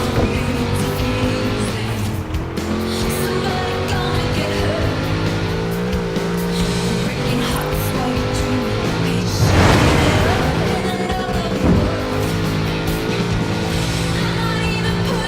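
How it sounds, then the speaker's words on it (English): A big Chevrolet car engine races in Forza Horizon 4, roaring loud and continuous throughout, with a brief surge and tire squeal near the end. "Such power in the big Chevrolet engine."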